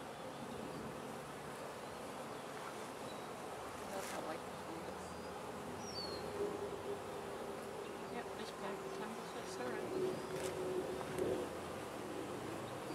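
Bees flying around a beehive, with others inspecting a neighbouring hive during an outdoor swarm check-up, a steady soft buzzing hum throughout with occasional nearer passes and faint background noise.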